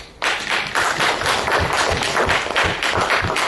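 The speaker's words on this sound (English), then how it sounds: "can we give a round of applause to our Dutch brothers, please?" Dense applause from a seminar audience at the Institute of Social Studies in The Hague bursts in suddenly and holds steady as a full, continuous roar of clapping, loud and close.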